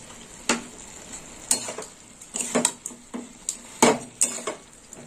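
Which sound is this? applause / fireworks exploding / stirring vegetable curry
stirring vegetable curry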